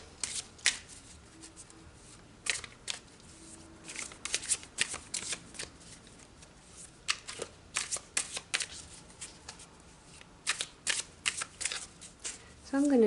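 Tarot cards are shuffled by hand in quick, crisp riffling bursts with short pauses between them, close and clear in a quiet room.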